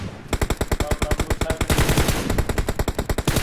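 Rapid automatic gunfire rattles in a shooting video game, with dense, loud bursts of rounds close up and barely any break between shots.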